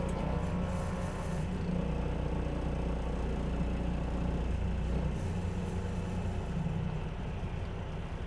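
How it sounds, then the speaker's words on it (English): A 2025 Class A truck with a manual transmission creeps along at about 5 mph before the service brake goes on, giving a low, steady, muffled engine rumble heard from inside the cab. "We're at 5 miles per hour. I hit my service brake."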